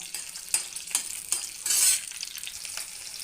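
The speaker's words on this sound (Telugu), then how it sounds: "ఒక దోరగా వేయించుకోవాలండి, పచ్చిమిరపకాయలు బాగా వేగాలి కాస్త." Green chillies frying in a pan for beetroot chutney, a steady close sizzle with a brief louder crackling burst near the middle and a few stir clicks, no voices.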